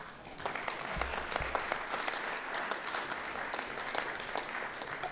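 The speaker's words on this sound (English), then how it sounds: "Peugeot deserve a big round of applause." An audience at a Coventry university car day Q&A applauds for Peugeot, a steady, fairly faint round of clapping from a crowd lasting the whole stretch.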